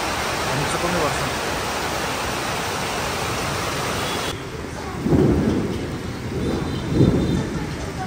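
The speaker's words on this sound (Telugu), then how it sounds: "మెల్లగా వర్షం పడడం కూడా స్టార్ట్ అయిపోయింది" Steady rain hisses evenly across an evening scene at Grand World Hanoi, Vietnam, with a couple of deeper rumbling swells rising near the end.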